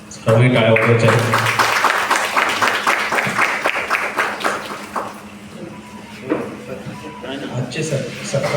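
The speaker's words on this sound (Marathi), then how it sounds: "सर्वांनी टाळ्या वाजवायच्या आहेत" Audience clapping at a retirement felicitation ceremony, dense and steady across the hall from start to finish, with a voice speaking over the applause partway through.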